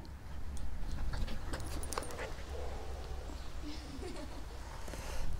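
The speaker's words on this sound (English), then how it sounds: "This is a new member of the family, Cocker Spaniel" Fern, a young Cocker Spaniel, whimpers and makes soft whining sounds in a shed with a kennel. The whines are faint and come in short bursts over rustling and movement noise close by, with a brief muffled voice.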